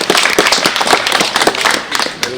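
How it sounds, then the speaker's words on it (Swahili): An audience claps at an outdoor public event for a water supply handover at a police camp, a dense burst of many hands applauding close by that keeps going throughout. "Makofi tafadhali."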